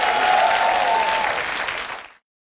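A television studio audience gives a burst of sustained applause with a few cheers, loud and full, cutting off abruptly after about two seconds.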